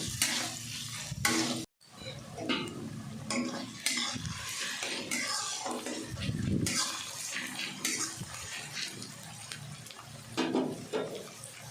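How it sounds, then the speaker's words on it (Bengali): Two medium onions, chopped, frying in oil in a pan with continuous stirring, giving a steady close sizzle with spoon scrapes and one brief pause early on. "পেঁয়াজটাকে কিন্তু ভালো করে ভেজে নিতে হবে।"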